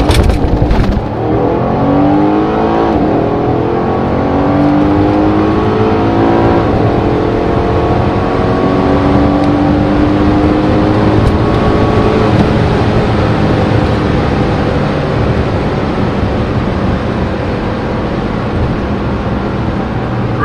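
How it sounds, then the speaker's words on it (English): A Mercedes C63S AMG in race mode launches at full throttle, its loud engine roaring steadily and climbing through rising revs for about twenty seconds, up close and without talk. "Push up, push the throttle fully in and let it go."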